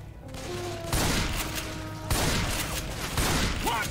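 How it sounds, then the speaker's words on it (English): Gunfire in the zombie shooter Left 4 Dead: loud, rapid bursts of shots in several close volleys with brief gaps between them, and no talking over them. "Watch where you shoot!"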